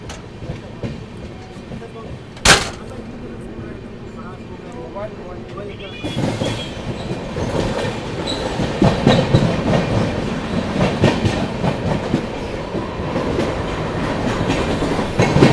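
The Mahabodhi Express rolls along while overtaking another train. A sharp bang comes early, then the rumble swells into a loud, steady clatter of wheels and carriages with a rhythmic clickety-clack. A voice speaks faintly beneath it.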